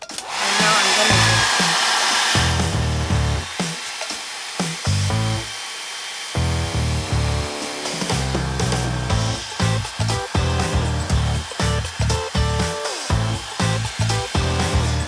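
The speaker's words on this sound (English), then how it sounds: "This is a super hair dryer." A hair dryer on its highest speed roars loud and steady at first, then its airflow is repeatedly interrupted and chopped into uneven bursts as it is moved close to the microphone, continuous for the whole stretch without talk.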